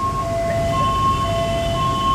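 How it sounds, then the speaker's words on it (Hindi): An ambulance siren stuck somewhere ahead in city traffic wails in a steady, fairly distant tone above a rumbling street background. "अभी एम्बुलेंस शायद आगे फंस गई है, निकल नहीं पा रही है"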